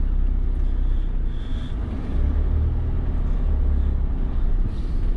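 Continuous road rumble and tyre noise of a vehicle travelling a road busy with other cars, a dense, steady drone with slight swells as traffic passes.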